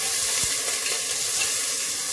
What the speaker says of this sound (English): fry up our onions just to release some flavors